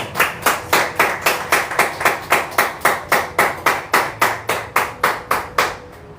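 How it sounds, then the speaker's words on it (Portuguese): A church congregation claps in a strong, steady unison rhythm, sharp loud claps evenly spaced about three per second, continuing for several seconds before stopping, with no talking. "vamos aplaudir Jesus pela vida"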